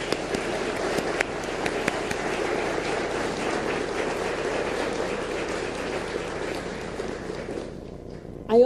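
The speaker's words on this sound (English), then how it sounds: "deserve a special round of applause" Sustained applause from the audience at a county State of the County address, a steady dense clatter of many hands that holds evenly and fades near the end.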